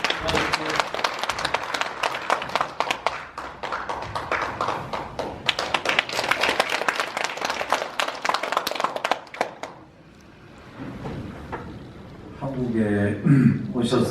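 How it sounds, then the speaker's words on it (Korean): Audience at a New Year gathering of a North Korean democratization committee claps loudly and continuously to welcome a speaker, then the clapping fades into a quiet pause before a voice and brief tonal sounds return. "큰 박수로 맞아주십시오"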